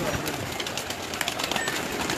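Pigeons of a home-bred line cooing in a loft at Chak Sher Muhammad, a continuous soft murmur of overlapping coos with constant rustling and background clatter, fairly close and steady throughout.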